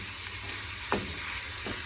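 Onion with kefta fries and is stirred in a small pan, a close, steady sizzle with soft scraping strokes from the stirring.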